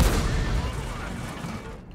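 A tank cannon shot in the World of Tanks game: a loud, close boom at the start that rolls off into a long, fading rumble over about two seconds.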